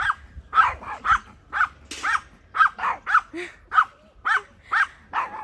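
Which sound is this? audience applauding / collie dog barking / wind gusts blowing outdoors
collie dog barking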